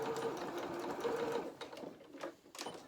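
A sewing machine reverse stitches at the top of felt doll bloomers, whirring in a short close run that breaks into brief stop-start bursts before it ends.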